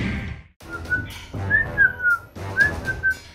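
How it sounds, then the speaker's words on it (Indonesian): A person whistles a few rising and falling notes over a steady background hum, with a brief pause partway through. "Siapa nih yang masih bersiul malam-malam?"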